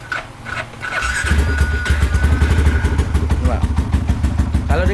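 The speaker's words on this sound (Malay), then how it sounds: "Motornya dah hidup. Aku dah adjust dia punya idle bagi cun-cun." A motorcycle engine converted to fuel injection idling after starting, settling into a steady, even low putter close by, with a faint squeal early on and talk over it.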